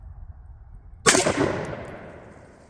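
A semi-auto converted 1938 DP28 rifle fires one loud, sharp shot outdoors after a quiet moment, the report ringing out and decaying over about a second.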